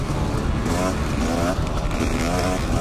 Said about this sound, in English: Holy crap, he is ripping on that CR500.